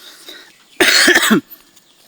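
A single short burst of coughing, a few quick harsh hacks close by, surrounded by quiet.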